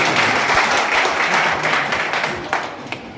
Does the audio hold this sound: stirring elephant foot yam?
no